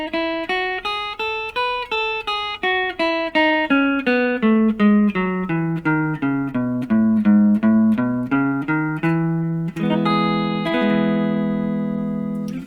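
Guitar plays a major scale in the A pinky shape, single plucked notes stepping steadily up then back down, ending on a sustained chord; clean, close and alone.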